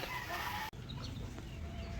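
Chickens cluck and a rooster calls over a steady farmyard background, with a brief dropout partway through; the flock includes gamecock hens.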